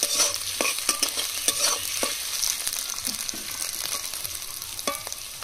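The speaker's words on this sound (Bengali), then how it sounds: "পেঁয়াজগুলো লাল লাল করে ভেজে নেব।" Sliced onions fry in a pan until reddish, giving a steady sizzle broken by repeated sharp scrapes and taps of a spoon stirring against the pan.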